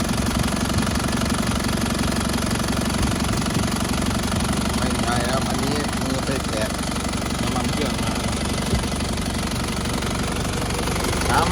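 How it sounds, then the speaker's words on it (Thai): A warm Isuzu D-Max 3.0 4JH1 diesel pickup engine idles loudly and steadily, with a continuous rough, knocking diesel clatter close by throughout. "เดี๋ยวสตาร์ทเครื่องหน่อยครับสตาร์ทเครื่องเลย"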